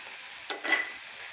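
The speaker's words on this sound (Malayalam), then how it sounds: "കുറച്ച് നേരം ഇളക്കി മിക്സാക്കി എടുക്കുക." A spoon stirs a fish soup in a pot, making a single short, soft scrape against the metal in an otherwise quiet moment.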